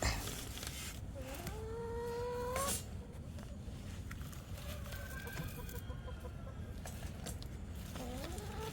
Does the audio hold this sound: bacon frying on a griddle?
no